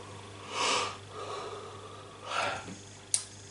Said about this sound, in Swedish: vänta, jag ska gäspa.